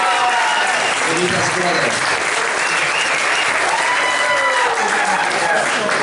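Wedding guests applauding, loud sustained clapping from a full room that holds steady throughout while a voice speaks over it.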